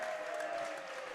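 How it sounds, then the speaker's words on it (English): Crowd applauding a two-handed dunk at a North Dakota high school boys basketball game, steady clapping across the whole moment at moderate distance with no clear talk. "Round of applause given on a pretty dunk by Bryson Heck"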